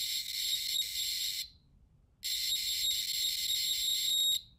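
An Arduino-driven speaker plays harsh, buzzy 1-bit square-wave audio in two loud bursts separated by a short silent gap, shrill and steady like an alarm tone.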